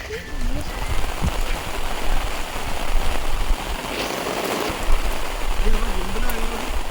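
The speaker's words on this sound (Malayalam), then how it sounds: "മഴ പെയ്യുന്നേ." Rain patters and hisses steadily in the background while people talk briefly at the start and end.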